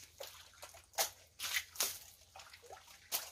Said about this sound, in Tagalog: Lagyan muna natin ng tubig para makuha yung mga dumi.